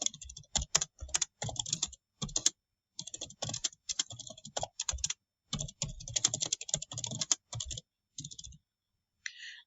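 Bursts of typing on a computer keyboard while writing a post in Microsoft Teams, quick clustered keystrokes in short runs separated by brief pauses, close and clear with no talking.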